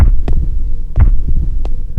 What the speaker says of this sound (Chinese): 长长的走廊里只能听到自己的脚步声和心跳声